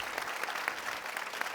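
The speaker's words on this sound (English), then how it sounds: "A big applause to all of you." Applause from the audience at a panel session on government foresight, a brief wash of many hands clapping at moderate distance, even and sustained throughout.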